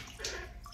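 Water runs and splashes while monkeys are rinsed in a bath, a steady soft wash of flow with a brief louder gush near the middle, fairly faint throughout.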